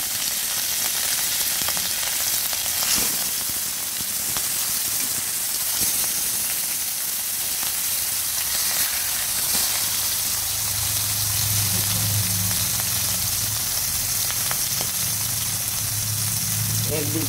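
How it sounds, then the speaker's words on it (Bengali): Pieces of katla fish sizzle in hot oil in a pan, a loud, close, steady hissing crackle that swells as more pieces go in, with a low gurgling bubble building toward the end. "একটুখানি নুন দিলাম, এক এক করে মাছগুলো দিয়ে দিচ্ছি।"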